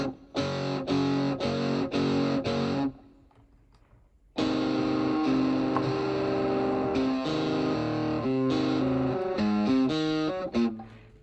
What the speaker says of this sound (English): when you want to play something with some distortion or overdrive